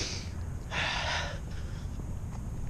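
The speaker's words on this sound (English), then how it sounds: "I'm probably going to start sniffling a little bit now" A person sniffles in the cold, a close breathy intake of air through the nose standing out over steady outdoor hiss.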